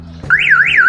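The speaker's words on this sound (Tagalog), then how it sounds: "Okay, boys, umaandar na yung alarm" The car alarm of a 1999 Honda Civic SiR kicks in after a brief click and blares a loud, close, rising-and-falling electronic warble that repeats in quick cycles, with no voices.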